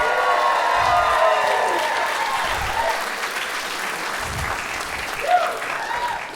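Loud crowd applause with cheering and whoops at a stand-up comedy show in San Francisco, sustained throughout, a voice shouting over it near the start and a brief yell near the end.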